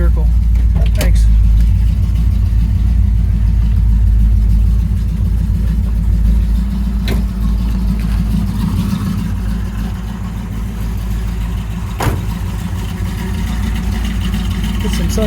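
A 1970 Chevrolet Camaro Z28 tribute left idling, its engine holding a steady, loud low rumble throughout, with a few sharp clicks and talk over it.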